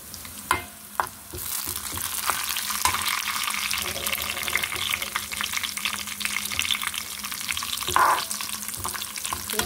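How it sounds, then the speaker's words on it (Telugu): Andhra-style sambar with okra, tomato and green chilli cooks in a pot, a constant close bubbling and hissing that opens with a couple of clanks and carries a brief clink near the end. "చూడండి సాంబార్ కూడా బాగా బాయిల్ అవుతుంది"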